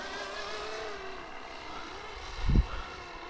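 A Flywing FW450 Airwolf RC helicopter hovers with a steady whirring rotor and motor drone. A brief low thump cuts through it near the end.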